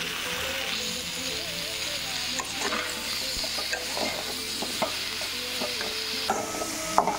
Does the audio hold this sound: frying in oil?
yes